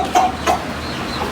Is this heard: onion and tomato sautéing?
no